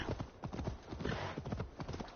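Horse hooves clip-clop in a steady, brisk rhythm in the video game Assassin's Creed Valhalla, moderately loud and continuous with no speech over them.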